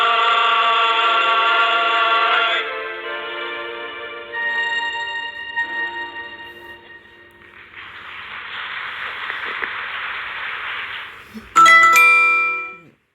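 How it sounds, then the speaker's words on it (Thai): Bells play the Christmas carol Ding Dong Merrily on High as sustained, ringing tones that shift in pitch. A hissy stretch comes midway before a final loud, bright strike. "เพลงเมื่อสักครู่นี้นะคะ Ding Dong Melody on High นะคะ เป็น เสียงระฆังนะคะ"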